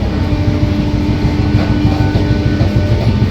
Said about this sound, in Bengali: খুব সুন্দর আওয়াজ হচ্ছে ট্রেনের, রিয়েলি খুব সুন্দর আওয়াজ